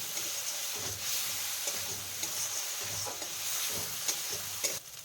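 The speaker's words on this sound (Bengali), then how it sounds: "মশলাটাকে ভালো করে কষিয়ে নিচ্ছি" A spice masala is being sautéed in a pan for a tarka dinner until the oil separates, giving a steady, close sizzle with recurring scrapes of stirring and no voices.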